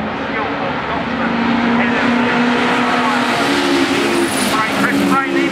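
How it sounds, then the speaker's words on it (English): MG Trophy race cars at Oulton Park roar past in a steady, loud wash of engine noise with rising and falling pitch, while a commentator talks continuously over it. "Here come the leaders then, and it is still the yellow MG 500 Paul Luty."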